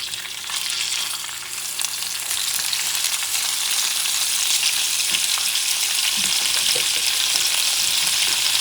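Meat for a spicy stew fries in a pan with a steady, dense sizzle that runs the whole time, close and continuous with no talking.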